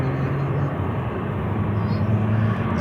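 An Airbus A321 airliner arriving from San Francisco gives off a steady, loud jet engine roar with low droning tones throughout.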